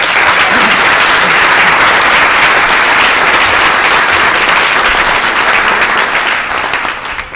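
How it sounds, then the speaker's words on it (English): A loud, sustained round of applause from a room full of people at a Black History program and soul food luncheon, dense clapping held evenly for about seven seconds before tapering off. "Please give them a round of applause."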